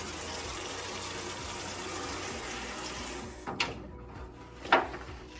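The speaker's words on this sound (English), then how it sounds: "We'll put some water in this pan here." Water poured into a pan for soaking barbecue skewers, a steady running-water wash for about three seconds followed by two short louder splashes near the end, close by with no talk.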